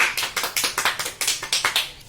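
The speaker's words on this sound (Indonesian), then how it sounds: "Beri tepuk tangan pada Mbak Naila dan Mas Rafiq." Students in a classroom clap together in a short round of applause, a fairly quick series of sharp, close hand claps lasting about two seconds.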